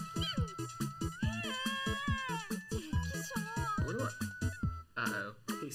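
A cat meowing repeatedly in a video game, a quick run of loud, pitched mews in close succession, some long and wavering, with no talk over it.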